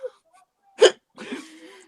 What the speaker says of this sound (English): The hiccups are what get me.